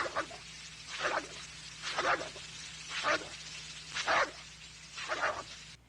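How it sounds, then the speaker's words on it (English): A dog snaps and gulps at water spraying from a power washer, making five evenly spaced bursts of wet chomping and splashing about a second apart, close and moderately loud over a low hum. "A dog trying to bite water coming out of a power washer."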